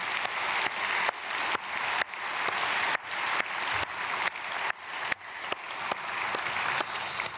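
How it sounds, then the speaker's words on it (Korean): Congregation applause at a Myungsung Church dawn prayer service in Korea, offered as a blessing for youth and children: a steady wash of many hands clapping, moderately distant, with a faint pulsing rhythm running through it. "박수로 축복하겠습니다."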